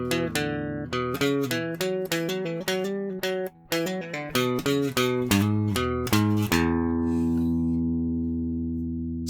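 An electric guitar with a vintage tone and little sustain plays a quick run of plucked notes and chords, then lets a final chord ring out and fade.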